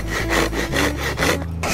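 A hand saw with several broken teeth cuts through very hard bamboo with loud, close, rhythmic rasping strokes, about four back-and-forth pulls in quick succession.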